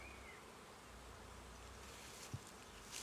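A dense, steady drone of many honeybees buzzing close around a hive, continuous and low, with no voices.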